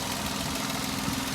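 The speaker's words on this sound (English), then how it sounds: "Shaky little engine, that's standard." A small car engine idles with the bonnet open, giving a steady, slightly shaky low hum with a faint vibration, close and alone without any voices.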